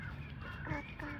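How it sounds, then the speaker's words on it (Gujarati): A crow caws faintly a couple of times, mixed into low background noise and voices near a family outing by the Rhine river. "અચ્છા, કાગડો બોલે છે"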